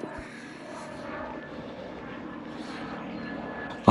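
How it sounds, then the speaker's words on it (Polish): A fixed-wing airplane drones steadily overhead near an abandoned building complex, a faint, continuous engine hum lasting several seconds with no talk. "Ale fajny samolot."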